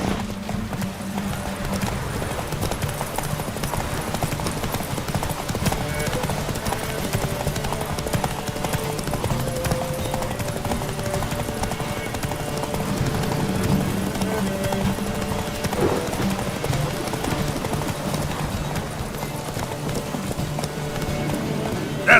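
Horse hooves pound in a steady, continuous galloping rhythm during a horse race in The Witcher 3: Wild Hunt, with a whinny and some voices mixed in over a constant loud bed of sound.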